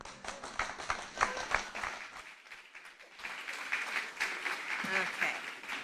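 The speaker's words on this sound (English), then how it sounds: "Everybody give them a round of applause." An audience claps in a sustained round of applause, swelling after a short lull and continuing steadily.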